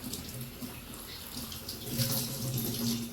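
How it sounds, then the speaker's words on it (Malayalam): Tap water runs steadily into a sink as a leaf is washed under it, a close continuous splashing gurgle with small shifts as the leaf moves through the stream. "അത് നന്നായി ഒന്ന് കഴുകട്ടെ കേട്ടോ കഴുകിയിട്ട് നമുക്ക് ഇല വാട്ടാം"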